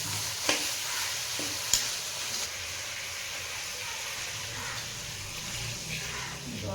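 Goat meat frying in oil while being stirred, a steady sizzle with a few sharp scrapes of the spoon against the pan, moderately close and without talk.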